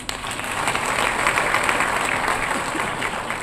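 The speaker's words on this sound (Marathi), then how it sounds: "हे तुमच्या टाळ्या वाजवल्या ना" An audience at a speech in Ulwe breaks into sustained applause, a dense, steady wash of many hands clapping at close range with no talking over it.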